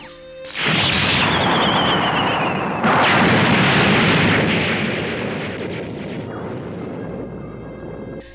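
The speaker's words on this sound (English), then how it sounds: "The two nations destroy one another with what appear to be nuclear weapons." Nuclear weapon explosions in an animated film: a deep, continuous roaring blast that swells in, with a second heavy detonation midway and a long rumbling tail fading toward the end, loud and with no voices.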